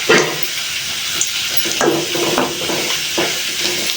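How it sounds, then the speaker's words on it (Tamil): Small papad pieces fry in hot oil in a kadai, giving a steady, close sizzle and bubbling hiss with occasional stirring scrapes. "நம்ம அப்பளத்தை சின்ன சின்ன துண்டாக கட் பண்ணி போட்டு அப்பளத்தை நம்ம பொறிச்சு எடுத்துப்போம்"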